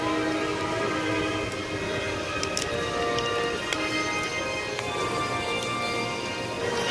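Heavy rain pours down in Orlando, a steady dense hiss running unbroken and fairly loud throughout, with a few faint higher clicks and taps scattered over it.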